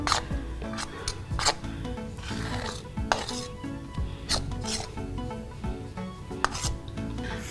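Flour stirred and rubbed together with two spoons of oil in a bowl, an uneven series of close scraping, gritty rubbing strokes with occasional sharper clinks against the bowl, under soft background music.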